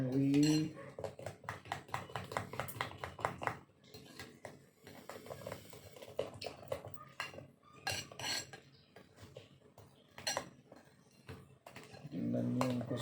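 Avocado salad being stirred in a bowl, repeated clinks and scrapes of a utensil against the bowl in an irregular rhythm, with a voice speaking at the start and end.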